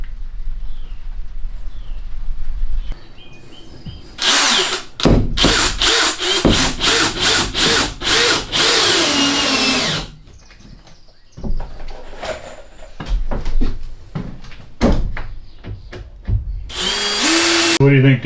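A power drill drives screws into a plywood deck during a DIY camper truck build, with loud repeated whirring bursts, sharp stops and short pauses, some woody rubbing, and talk in the gaps.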